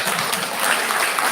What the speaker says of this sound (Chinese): 他热烈掌声鼓励。